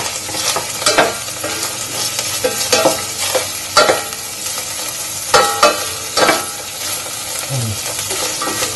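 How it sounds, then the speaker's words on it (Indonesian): Chopped celery sizzles in hot oil in a pan while being stirred, with a constant crackling fry broken by frequent scraping and clinking strokes of the utensil, close and loud throughout. "Jadi si seledrinya kita masukin setengahnya dulu ya teman-teman ya. Kita aduk-aduk."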